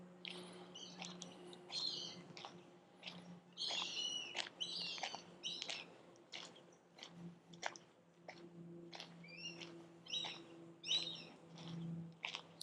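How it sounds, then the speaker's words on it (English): Birds chirp repeatedly in short bursts over a low steady hum at Moccasin Lake Nature Park in Florida, fairly close and moderately loud, with no talk. "You can hear the birds flying up there."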